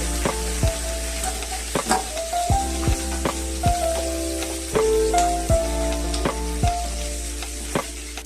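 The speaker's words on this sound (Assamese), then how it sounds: "এতিয়া চাওক এয়া মই গৰম তেলত প্ৰথমে পিঁয়াজ কেইডোখৰ অকণমান ৰঙা কৰি ল'ম।" Steady, loud sizzling of onions frying in hot oil, close up, with scattered taps and scrapes of a utensil stirring the pan.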